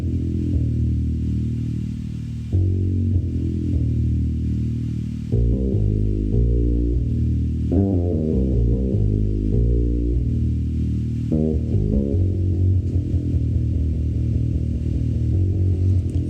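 A synth bass line from a Weatherman-style patch plays alone, a deep, punchy repeating riff of short rhythmic notes with brief gaps, steady and loud throughout.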